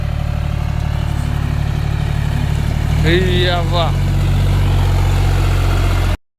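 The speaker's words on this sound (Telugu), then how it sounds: "ఈ ట్రాక్టర్ ఎంత మునుగుతుంది అలా చూడుర్రి" A tractor crosses a large canal on a farm during rice transplanting, its engine giving a steady, loud, low rumble throughout, with a short exclaiming voice partway through.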